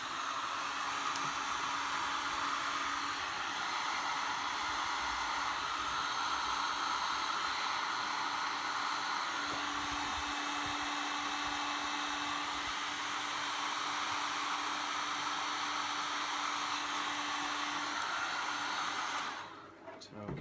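A heat gun blasts hot air steadily onto grey plastic pipe from a sand filter's snapped centre stem, a loud, continuous broadband hiss with a faint hum that carries unbroken for about twenty seconds before dropping away abruptly.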